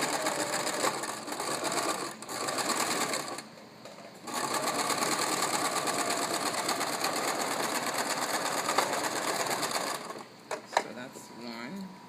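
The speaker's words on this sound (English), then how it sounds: "So now I will come and stitch out my seam line, which is 3/4 of an inch, which is the last line on the seam guide." A sewing machine stitches a 3/4-inch seam line through two layers of fabric for inverted box pleats, with a loud, steady mechanical whir broken by brief stops and restarts.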